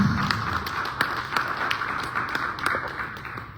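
A church congregation claps steadily and fairly close, a dense patter of many hands with sharper individual claps standing out, continuing without a break.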